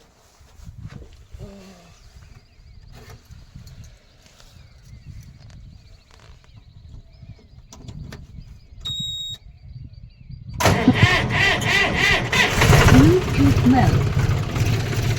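A farm tractor engine starts up after quiet handling noises and then runs at a steady idle, loud and close, with someone talking over it in Gujarati.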